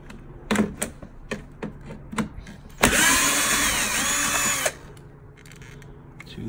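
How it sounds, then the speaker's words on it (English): A power drill whirs steadily for about two seconds while fitting an RS3-style grille with sensors onto an Audi S3 8V, preceded by several sharp clicks and taps of handling, close and fairly loud. "Let's get the drill and get started."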